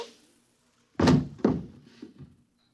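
Two sharp gunshot effects in a 1955 science-fiction radio drama, a loud thunk followed half a second later by a second shot, with quieter knocks trailing after.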